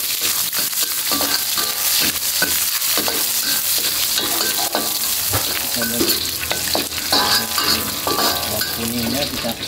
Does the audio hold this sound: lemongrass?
yes